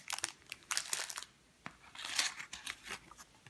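Two plastic Haribo candy bags crinkle and rustle as they are unpacked from a package, in irregular crisp bursts close to the microphone, with no talking.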